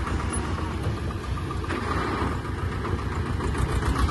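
A tractor engine idles close by, a continuous low rumble holding even for the whole stretch with no voices over it.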